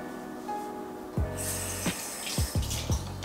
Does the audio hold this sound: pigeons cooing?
no